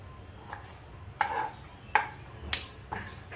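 A knife chops vegetables for street-style pav bhaji, landing as five sparse, fairly quiet sharp taps on a board at uneven intervals, with no talking.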